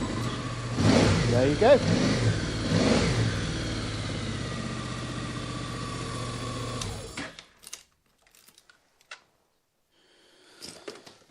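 A motorcycle engine, left unused in a garage for about a month and then charged with an Optimate solar charger, runs with a few revving blips before shutting off, followed by quiet handling noises and a brief spoken remark.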